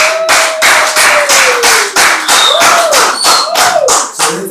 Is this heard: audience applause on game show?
yes